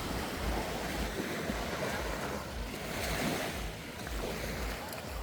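Surf washes onto a beach on Phu Quoc Island, Vietnam, a steady broad roar of breaking waves with wind buffeting the microphone, continuous and fairly soft, no speech.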